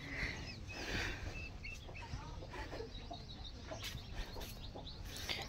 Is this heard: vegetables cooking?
no